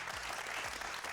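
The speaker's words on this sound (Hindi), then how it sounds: "बिल्कुल अली सिकंदर के लिए तालियां।" Audience applause for actor Ali Sikandar at an entertainment show, a dense, even wash of many hands clapping at once, sustained and fairly loud for a brief moment.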